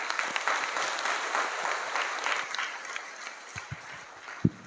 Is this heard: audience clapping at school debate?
yes